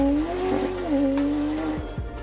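A 1990s McLaren with a naturally aspirated engine passes close by, its engine note sweeping and wavering briefly with a hint of tyre noise.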